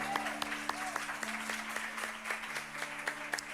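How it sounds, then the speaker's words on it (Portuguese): An audience in a church gathering applauds women from Esmeraldas and Sete Lagoas with steady, sustained clapping that continues throughout, fairly close, and a low hum sits underneath it. "Vamos aplaudir essas mulheres?"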